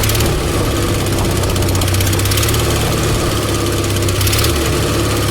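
A Miller Legend welder's engine runs loud and close with a governor problem, its steady drone surging and sagging in slow repeated waves as the speed hunts.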